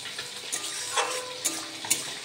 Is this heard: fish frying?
yes